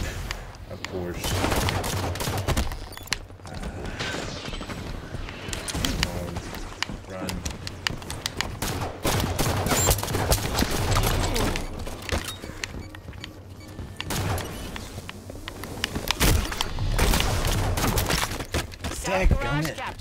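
Rapid gunfire bursts from the Halo 5: Guardians video game crackle densely throughout, loud and close, mixed with game sound effects while a voice talks over the action.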